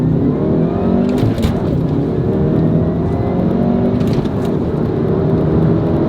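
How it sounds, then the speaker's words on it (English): A VW Golf R Mk7 launching hard for a 0 to 60 run, its engine note climbing through the revs with brief gear-change breaks, loud and close from inside the car with no talk. "Let's do the 0 to 60 launch."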